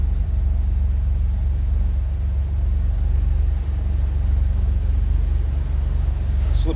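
A 1949 Willys Overland Jeepster engine idles steadily with a low, continuous rumble that stays close and fairly loud throughout, with no talk over it.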